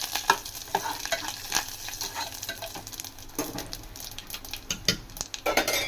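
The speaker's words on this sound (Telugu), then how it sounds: "ఈ విధంగా బాగా పప్పు కలుపుకున్న తర్వాత" Gongura dal being stirred in a pan, with a spoon scraping and tapping against the metal in an uneven rhythm over a low sizzle, close and fairly quiet, with no voices.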